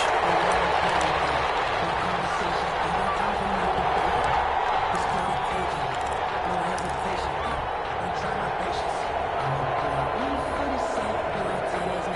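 A stadium crowd at an American football game between the Mexico City Diablos and the Indianapolis Colts keeps up a dense, steady roar of cheering and noise throughout, loud and continuous with no single standout shout.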